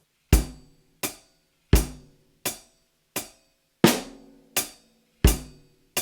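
A full drum groove in seven combines hi-hat, bass drum and snare in a steady loop of close, punchy strokes, deep kicks alternating with bright snare cracks, with no voices over it.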